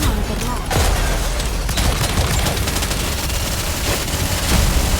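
Rapid gunfire and impacts pile up in the mobile game Goddess of Victory: Nikke, a dense, loud, continuous barrage with sharp bursts, while game voices speak over it.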